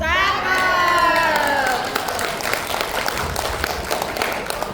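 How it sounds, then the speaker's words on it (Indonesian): A crowd at a community gathering bursts into applause and cheering, with a rising shout at the start and then clapping that continues steadily at moderate volume. "Terima kasih tepuk tangannya."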